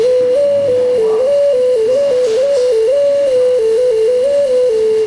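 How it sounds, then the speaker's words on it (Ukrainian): A handmade ceramic whistle made by a potter and played at a folk traditions festival in Vinnytsia, Ukraine: one clear, loud, piping tone that steps up and down through a simple tune, sounding alone and close. "на виставці презентує авторські вироби, зокрема свищики"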